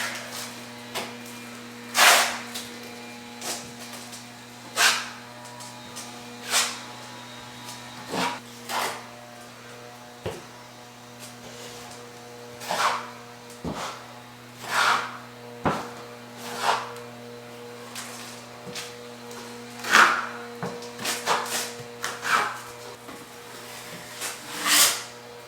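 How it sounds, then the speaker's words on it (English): Drywall mud is spread with a trowel or knife over a patched wall during a toilet relocation, a series of scraping swipes at irregular intervals over a steady background hum, with no speech. "let's get some mud on here."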